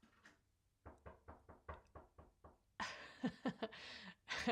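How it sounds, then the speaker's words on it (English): Knocking on an outside door: a run of about eight evenly spaced muffled raps, followed by louder, denser knocks and rattling with some breathy noise, close to the microphone. "My son is knocking on the outside door."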